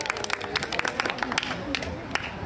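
Audience applause at a polo championship in France, a steady patter of many hands clapping, heard under a man's amplified announcement.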